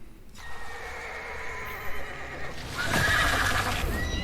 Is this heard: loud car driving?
no